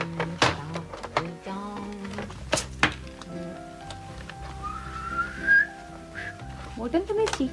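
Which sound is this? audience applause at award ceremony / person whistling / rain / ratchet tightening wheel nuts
person whistling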